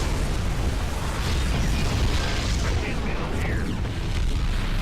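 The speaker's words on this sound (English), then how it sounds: "Wave of shuttles has been shot down." Explosions and bursts from shuttles being shot down in the StarCraft 2 co-op mission Void Launch, a dense, continuous rumble of booms and pops with game effects layered throughout.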